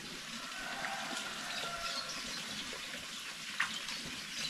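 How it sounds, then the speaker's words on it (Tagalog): Spring water flowing steadily through a koi pond, a continuous rushing gurgle with no pauses and no voices. "Yung tubig natin galing yan sa bukal, pero dumaan muna sa pan ng ating koi"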